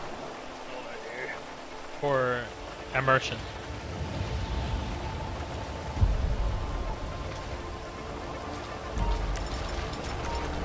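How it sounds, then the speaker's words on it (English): Steady rainfall in the video game GTA 5 patters continuously in the background while a person briefly speaks over it. "And why is it still raining?"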